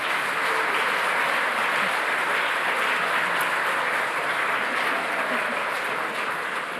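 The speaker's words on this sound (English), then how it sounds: "Please join us in another round of applause for all of our sponsors this evening." Steady, dense applause from an audience at an awards ceremony for sponsors in the evening, many hands clapping at a constant level throughout, fairly close and full.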